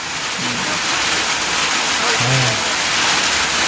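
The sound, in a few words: rain falling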